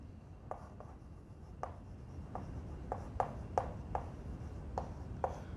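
Chalk or marker strokes on a board during a biology lecture on flowering plants: a string of short taps and scratches at an uneven pace, fairly faint over a low room hum.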